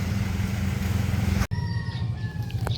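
A rooster crows in the distance in Cagayan Valley after a typhoon, its long, wavering call rising over a steady outdoor rumble, with a few chickens nearby.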